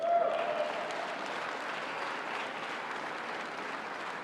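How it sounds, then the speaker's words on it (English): A large audience at a presidential speech on jobs in Colorado claps steadily, a dense, even wash of applause that holds for several seconds. "You can clap for that"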